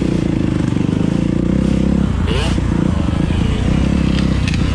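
A Kawasaki KLX140 dirt bike rolls along in second gear on a motocross track, its steady engine drone loud and continuous throughout, with a brief scraping rattle midway.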